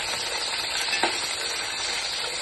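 Drumstick pieces fry in hot oil in a pan, a dense, steady sizzle close up with one small stir-like bump partway through, no talking.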